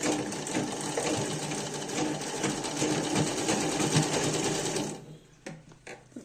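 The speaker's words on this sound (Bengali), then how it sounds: "এই যে আমি এভাবে সেলাইটা শুরু করলাম" A sewing machine stitches woolen socks in a rapid, steady whir for about five seconds, close and fairly quiet, then stops, leaving a few faint clicks and handling sounds.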